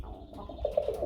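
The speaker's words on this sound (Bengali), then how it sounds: "কবুতর বাকবাকুম যদি না ডাকে তাহলে কিন্তু হইল না বন্ধুরা" Pigeons among a collection of birds kept for sale, cooing softly in a short, low rolling call that rises and repeats a couple of times near the end.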